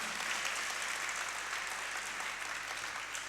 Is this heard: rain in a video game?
no